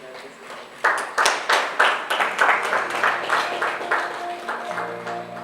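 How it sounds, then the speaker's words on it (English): Audience applause breaks out at a launch event after the official logo is signed, a dense wash of clapping that starts abruptly, stays steady and loud, then thins slightly toward the end. "Another round of applause."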